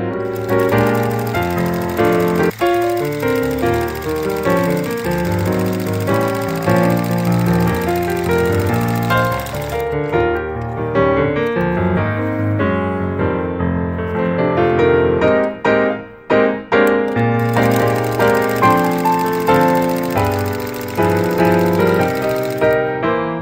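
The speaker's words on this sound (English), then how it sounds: "Now we top stitch across close to the folded edge. Use a straight stitch." A sewing machine runs a straight top stitch near the folded edge of fabric for a grocery bag holder. A fast mechanical whir continues steadily, briefly slowing and stopping near the middle, then resumes, heard mostly alone over background music.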